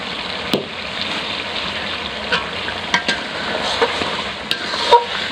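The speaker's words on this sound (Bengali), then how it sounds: "এই মশলাটা একটু বেশি করে কষাবো" Spice paste being sautéed in a pan over a village stove, a continuous moist sizzle with scattered clicks and knocks of stirring, close and fairly steady, without speech.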